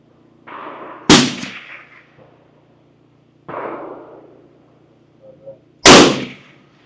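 Two sharp, loud Bergara rifle shots fired at a target outdoors, a few seconds apart, each with a quick echoing tail, separated by quieter rustling and handling noises.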